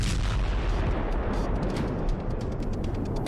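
Rocket fire and explosions during the Israel-Gaza attack, a dense, continuous roar of rumbling blasts and booms that stays loud throughout, with sharp cracks breaking through and no voices.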